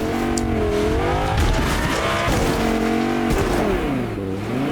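Two cars race in the video game Fortnite, with loud, close engines revving and shifting pitch and tires squealing and skidding, continuous throughout.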